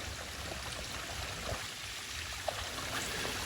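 Water poured through a bandana used as a trail filter gives a faint, steady trickle and splash for a few seconds, close and quiet with no voices.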